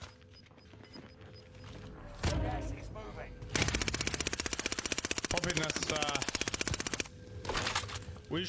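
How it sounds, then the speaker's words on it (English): Sustained automatic gunfire in an online shooter video game, a dense rapid rattle of shots lasting several seconds, with shouted player voices before and after the burst. "We're shooting, we're shooting."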